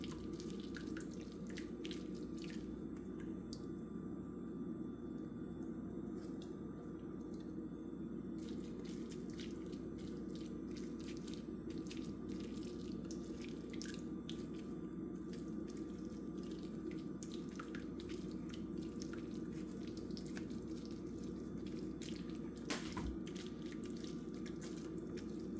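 Cherry juice pressed from fruit dribbles and drips through a strainer, a steady close trickle of liquid with scattered small drops and faint scraping.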